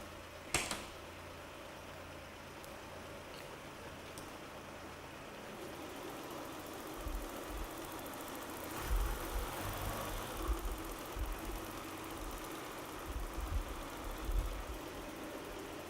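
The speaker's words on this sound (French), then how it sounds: "Là, le moteur tourne bien" A Citroën car engine idles steadily with a low rumbling hum, a few heavier rumbles and knocks surfacing now and then.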